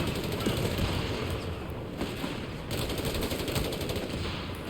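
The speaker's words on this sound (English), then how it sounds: "These guys are just dealing with being shot at with machine guns from both directions." Machine gun fire in Company of Heroes 3, continuous rattling bursts from more than one direction, fairly faint and steady under background battle noise.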